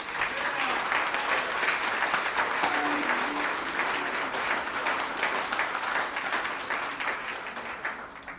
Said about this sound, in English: Y'all can clap a little louder than that.